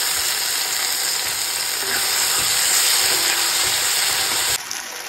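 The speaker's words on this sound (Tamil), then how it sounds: "இதை கொஞ்சம் வதக்கிடலாம் அப்படியே." Tomatoes and coriander leaves sautéing in a pan, giving a steady, fairly loud frying sizzle with faint stirring scrapes that runs for about four and a half seconds before dropping away.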